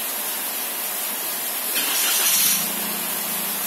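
A Daihatsu Ayla car engine, after water got into it, cranks and starts up, giving a brief rising burst of noise against steady background hiss, with no voices.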